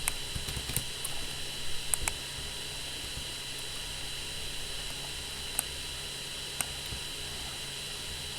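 Rapid clacking of mechanical keyboard keys, steady and close, with a few sharper clicks standing out over a hiss of background noise.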